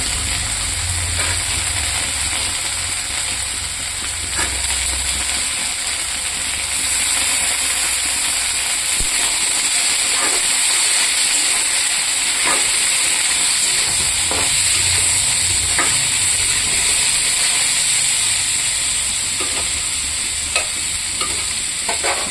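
New skin-on potatoes frying in a little soybean oil with onions, a steady close sizzle and hiss with repeated scraping stirs of a spatula throughout, no voices.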